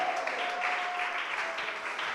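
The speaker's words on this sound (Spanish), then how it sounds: "¿Cuánto le dan aplausos al Rey de Gloria?" Steady applause from a crowd at a church service, dense and sustained clapping throughout, fairly loud with no speech over it.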